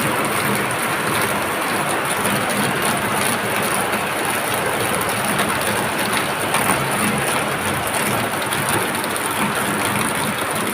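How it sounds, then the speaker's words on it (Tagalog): Heavy rain falls in Marikina, a dense, constant hiss that stays even and unbroken throughout, with no voices over it. "Ayan guys, lumalakas ang ulan."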